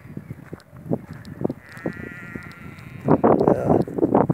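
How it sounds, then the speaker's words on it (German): Sheep bleat repeatedly in a grassy field, several short calls near and far overlapping, joined by a louder burst of bleating toward the end. "lauter Schafe, weit und breit Schafe"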